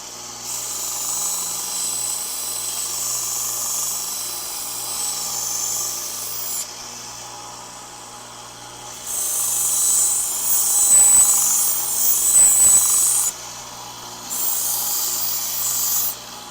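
A Global kitchen knife blade is ground on a belt sharpener with 3M Cubitron and Trizact belts, giving a loud steady high-pitched hiss in three long passes separated by short pauses.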